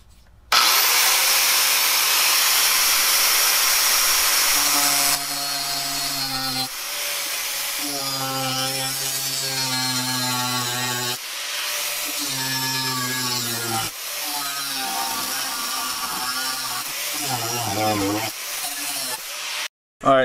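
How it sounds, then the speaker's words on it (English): Grinder fitted with a wire brush attachment scrubbing metal car parts, a loud continuous whirring grind that shifts in pitch as pressure changes, nearby and alone. "I just cleaned these up with this wire brush attached to the"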